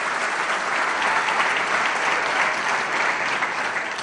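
Steady, dense applause from a large audience at an economic forum in a conference hall, sustained at an even, fairly loud level throughout with no speech on top.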